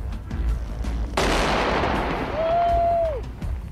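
An anti-tank mine is blown up in place by an explosive ordnance disposal team in Iraq, a sudden loud blast rolling into a long rumbling roar, with a brief steady whistling tone near the end.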